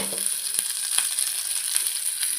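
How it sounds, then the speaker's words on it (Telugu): Salted cooked rice is stirred into a sizzling tempering for lemon rice, making a steady frying hiss with soft scraping clicks of a spoon against the pan. "ఇందాక సాల్ట్ వేసి పెట్టుకున్న రైస్ని ఇందులో కలపాలి,"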